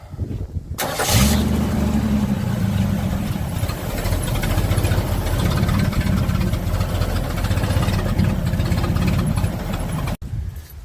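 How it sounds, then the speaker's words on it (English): A 1965 Ford Mustang V8 with a carburetor cranks and fires after a moment of quiet, then settles into a loud, steady, rumbling idle close by that runs for the rest of the clip. "See if she'll start and idle."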